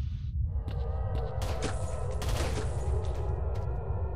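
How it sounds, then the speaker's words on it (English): Sustained gunfire in S.T.A.L.K.E.R.: Shadow of Chernobyl, a dense volley of shots and bursts that fills the whole stretch at steady loudness, with no voices over it. "I don't know, who the hell is shooting?"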